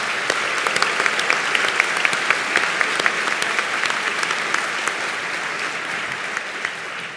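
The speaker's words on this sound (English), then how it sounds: "let's give them a round of applause for helping us out." A large commencement ceremony crowd applauds loudly and steadily, dense clapping from many hands that holds even and then eases slightly near the end.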